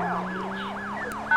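A police siren in a video game wails, sweeping up and down in quick repeated cycles, loud and steady, with no voices over it.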